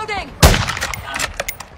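A single sharp, loud shotgun blast goes off in a multiplayer shooter video game, followed by a few quieter clicks and in-game effects.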